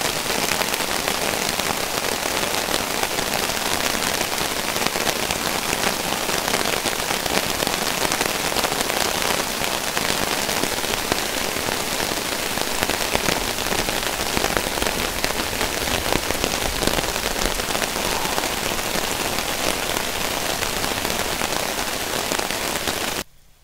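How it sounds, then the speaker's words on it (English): Heavy rain drums steadily on a waterproof camping tarp over a hammock camp, a dense, close, unbroken patter that holds for the whole stretch and cuts off abruptly at the very end. "Okay, our little rainstorm is over. And yes, that is a waterproof tarp."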